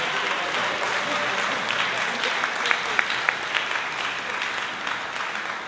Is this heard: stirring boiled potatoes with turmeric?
no